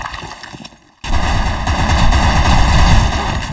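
Rapid gunfire in an online shooter game: after a brief quiet gap, a loud, dense burst of shots erupts and continues steadily, close and heavy, with no talk over it.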